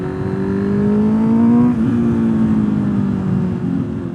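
A Honda CB650R motorcycle with a loud aftermarket exhaust revs up close, its pitch rising to a peak and then easing off into a sustained, throaty drone.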